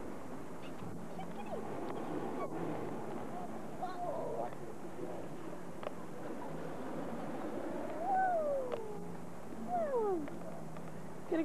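A cat meows several times in a quiet outdoor setting on the Cinque Terre coast in Italy, the short rising and falling calls fairly close over steady background noise and faint voices.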